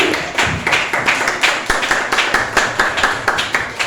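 At an AI workshop, a small audience claps after a talk, individual sharp hand claps in a fairly regular rhythm rather than a dense roar, close and distinct.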